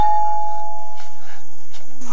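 A doorbell sounds by a large door in a TV drama, a clear sustained electronic tone chiming close and loud over about two seconds, with a second note near the end.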